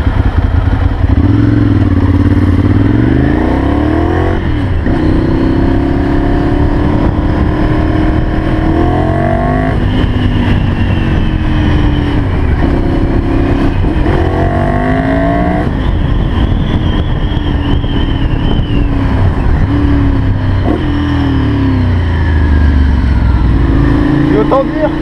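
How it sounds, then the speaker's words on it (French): Ducati Monster 796 motorcycle pulling hard in second gear, its engine note rising through repeated revving sweeps, loud and close throughout with a steady roar underneath. "faire une vraie accélération à fond en deuxième"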